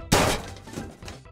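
A single sharp crash as an object is smashed in the video game Unturned, an abrupt loud impact followed by short rattling debris that fades quickly.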